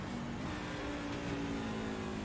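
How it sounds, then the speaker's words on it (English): A racing truck engine at a Phoenix race holds high RPMs with a steady, dense roar and a faint pitch shift as gears change, heard from a distance over constant track noise. "Brett definitely is, as he's running higher RPMs"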